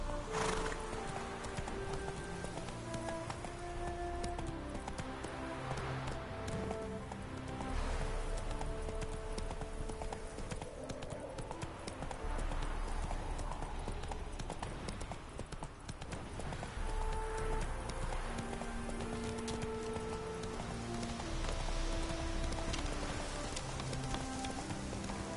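Roach, a horse in the video game The Witcher 3, gallops in rhythmic clip-clop hoofbeats that run continuously over rain and game music, with a faint neigh.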